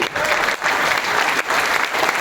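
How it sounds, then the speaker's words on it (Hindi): A seated crowd at a business seminar claps together in a steady burst, the dense applause dipping briefly twice before resuming at full strength. "ये आपको ताली बजा दीजिए।"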